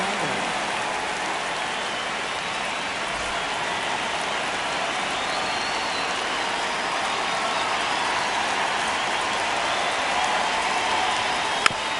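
Sustained, dense roar of a baseball stadium crowd in the ninth inning of a one-run Mets–Athletics game after a strikeout, a steady broadband wash holding at even loudness throughout, with no talk over it.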